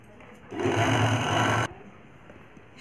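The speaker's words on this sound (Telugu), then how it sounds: "ఈ మూడు కలిపి స్టిచ్ వేసుకొని వచ్చేయండి" Sewing machine stitching a lined blouse, a single short burst of fast, steady whirring motor and needle chatter lasting about a second, close and clear, then stopping.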